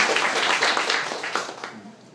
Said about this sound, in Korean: 박수 한번 드리시고.